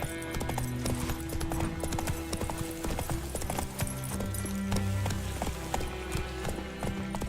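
Horse hooves clop in a quick, steady galloping rhythm on the ground in The Witcher 3 video game, under game music and ambience, with brief voice moments.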